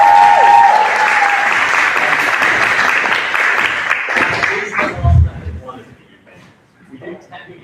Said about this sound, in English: so round of applause again